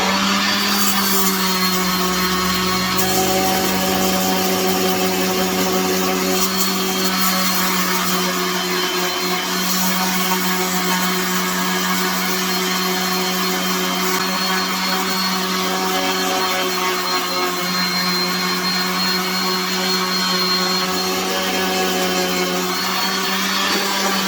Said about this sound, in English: I'm gonna go ahead and do it now with this orbital sander to just smooth it out just a little bit more